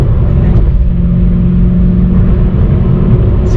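A 2017 Lexus RC F with an aftermarket exhaust rumbles steadily while cruising at normal speed, a loud, continuous low engine drone heard from inside the car with no talk over it.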